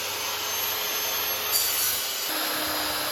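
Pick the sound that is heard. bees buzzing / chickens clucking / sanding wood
sanding wood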